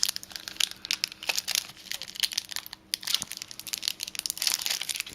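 Foil wrapper of a milk chocolate bar with beef jerky being crinkled and torn open by hand, a rapid series of close, crisp crackling and crumpling sounds with no talking.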